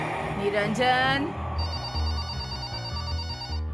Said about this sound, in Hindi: अरे कब से फोन बज रहा है?